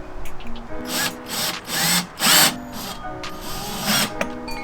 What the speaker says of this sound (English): Next thing we're gonna do is, I guess, just pre-drill the hole